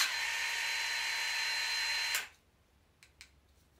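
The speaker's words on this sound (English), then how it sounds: "here's what the tool sounds like in the precision wrench mode" DeWalt DCF891 1/2-inch mid-range cordless impact wrench running in precision wrench mode, a loud steady high-pitched motor whine for about two seconds that cuts off abruptly, followed by a couple of faint clicks.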